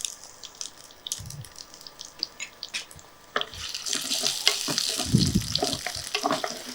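Onions are sautéed in hot oil in a clay pot, first with soft clatter and taps, then a sudden loud, steady hiss and crackle of sizzling that carries on to the end, close up, with no talking.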